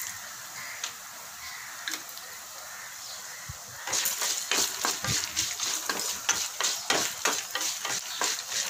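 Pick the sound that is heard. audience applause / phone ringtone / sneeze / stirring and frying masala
stirring and frying masala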